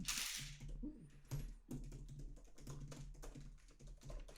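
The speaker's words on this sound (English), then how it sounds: "we can't both be typing during the podcast" Rapid typing on a computer keyboard during a podcast recording, a steady run of small close clicks and taps with occasional louder keystrokes, under low background hum.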